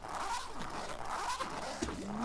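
A zipper sound effect in Super Mario Odyssey rasps in a short continuous run, loud and close, over a noisy game soundscape.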